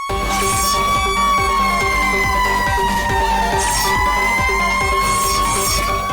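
A loud, continuous fire engine siren wails, rising and falling steadily, with a rapid mechanical rattle beneath it throughout.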